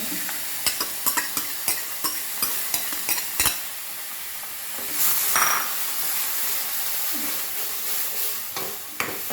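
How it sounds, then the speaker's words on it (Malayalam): Curd being stirred into a potato curry in a pan over a medium flame: a steady run of scraping spoon clicks and taps against the pan over a soft, continuous sizzle, with a brief louder hiss midway, close up and with no talking. "മീഡിയം ഫ്ലെയിമിൽ വെച്ച് തന്നെ ഇങ്ങനെ ഇളക്കാം"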